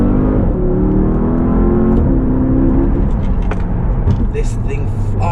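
A Porsche Panamera Turbo S E-Hybrid pulls hard in second gear from about 30 mph, its engine note climbing steadily and loud, with someone talking over it throughout.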